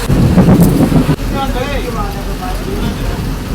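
Heavy rain pours down on a slow-moving boat in the Sundarbans, a dense, steady roar with wind buffeting the microphone, while a person talks over it.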